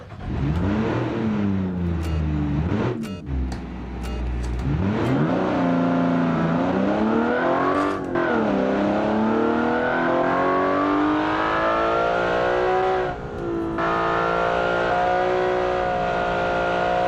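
A 120-horsepower, 857-kilo rally car in a racing video game on Italian city streets, its engine revving hard and climbing through gears with brief drops at each shift, loud and close with no talk.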